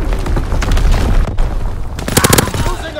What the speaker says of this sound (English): Artillery ready for orders, awaiting coordinates. Enemy capture, Kaiser! Firing for full effect, target zone locked.